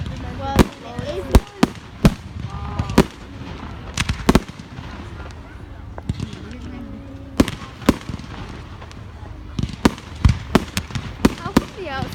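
Firework mortars explode on bonfire night as sharp distant bangs and crackling pops at irregular intervals, some clustered near the end, while people talk over the outdoor background.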